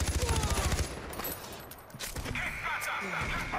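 Far Cry 4 gameplay with rapid automatic gunfire bursting in the opening second, followed by scattered shots, rumbling game sounds and ambient noise, with a voice talking over parts of it.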